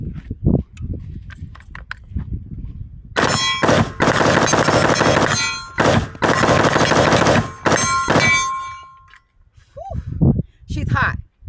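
A Smith & Wesson M&P15 Sport III rifle fires long strings of rapid, loud, sharp shots outdoors, with brief gaps between strings and quieter handling noises before and after.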